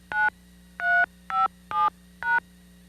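A 1989 Digital Equipment DECalert phone system keypad as an employee ID is entered: five crisp, evenly spaced DTMF tone beeps, clear and alone over a faint steady hum.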